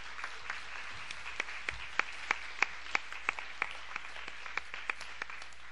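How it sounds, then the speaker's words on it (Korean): A church congregation at a worship service claps together in a steady rhythmic beat of about a dozen sharp, evenly spaced claps. A faint room murmur sits underneath. "다시 박수"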